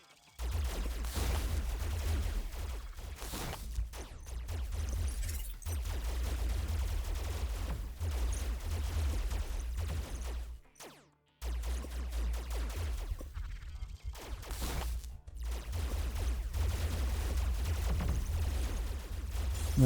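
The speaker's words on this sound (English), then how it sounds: "There's the explosions going off now." Explosions in a video game go off in a continuous, loud barrage with crackling, gunfire-like bursts over a heavy low rumble, broken by one short lull midway.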